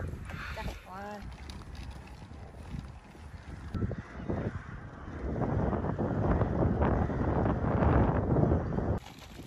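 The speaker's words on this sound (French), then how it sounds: "il y a du vent, il fait froid" Wind buffets an outdoor microphone on a cold day, a low rumbling roar that swells and grows louder over several seconds, with brief bits of voices early on.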